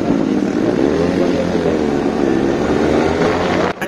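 Yamaha R15 V3 motorcycle accelerating hard during a drag race on a wide expressway, a loud, steady rising engine drone with wind roar, cut off abruptly near the end.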